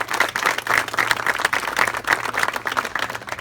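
Crowd applause and clapping at an outdoor ribbon-cutting ceremony in a park, honoring volunteers, woodcarver Don Becker and local residents; steady, dense clapping from a sizable gathering, moderately loud and continuous throughout.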